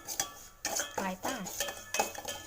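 Rava roasts in a metal pan while a spoon scrapes and clinks against it in quick, uneven strokes, close by, with a brief voice murmuring underneath.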